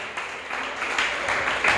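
A church congregation applauding at a Palm Sunday service, a steady broadband wash of clapping that swells in bursts and holds for the whole short stretch, with no voices over it.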